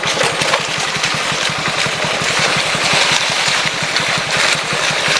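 A motorbike engine idles in a forest, a steady close putter with an even rapid beat throughout and no talk.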